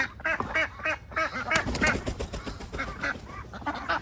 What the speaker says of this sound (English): So these are my noisy little ducks that I hatched myself.